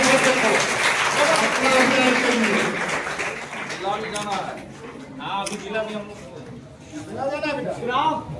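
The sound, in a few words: audience applauding a young quiz prize winner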